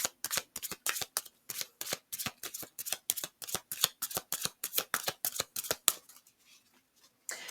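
A deck of tarot cards is shuffled by hand in a rapid, close run of crisp riffling slaps, roughly thirty in quick rhythm, stopping abruptly near the end before brief quiet.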